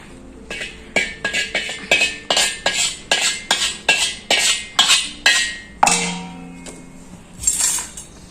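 Utensils clink repeatedly against a metal vessel in a fast, regular series of bright metallic taps as flour is put in, followed by a few scattered louder clanks.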